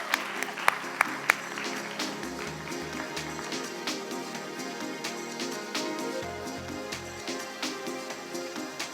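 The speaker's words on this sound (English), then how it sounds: "let's give them a round of applause back up to the stage" An awards ceremony audience gives sustained applause. A steady wash of many hands is punctuated by sharp, nearby individual claps, and a faint tonal background runs underneath.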